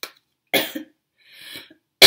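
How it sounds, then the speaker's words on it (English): Three short, dry coughs close to the mic, separated by brief silences, with the last cut off at the end. "I have a little bit of a cough."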